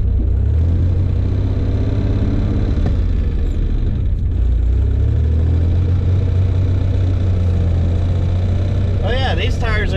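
A $500 Ford Ranger pickup with its snow plow raised rumbles through deep snow, its engine a steady close low drone with a brief rev, and a voice sounds faintly near the end.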